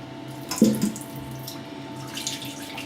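Tap water runs steadily for about three seconds to wet a Wickham Soap Co. 1912 Citrus Musk shaving soap, a close, even rushing stream with a brief louder splash near the start.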